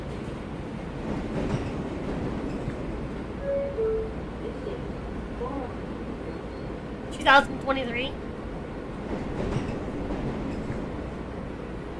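Steady rumble of a metro train ride heard from inside the carriage, low and continuous with a brief clatter, while a person talks over it.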